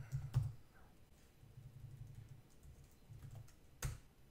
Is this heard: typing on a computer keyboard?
yes